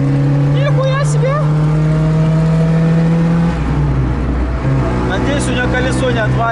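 An old Lada Zhiguli engine roars and revs loudly up close, the pitch climbing and dropping as it accelerates, with voices talking over it.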